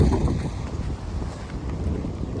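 Strong wind blows across a maize field outdoors, with a low, rumbling buffeting gust that swells and dips continuously and no voices heard.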